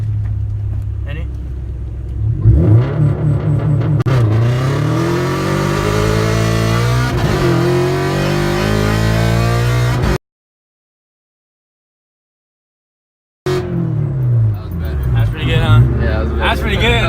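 A Subaru BRZ running on E85 fuel accelerates hard from 0 to 60 mph, the engine revving up loudly through rising gear pulls with shifts, heard from inside the car, then a gap of silence before the engine resumes.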